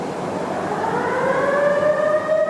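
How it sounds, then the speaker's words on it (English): A steel mill warning siren wails steadily, its rising tone climbing and holding over a broad rumble of background noise, loud and continuous. "They always sound a siren when something big and hot is being moved in the mill."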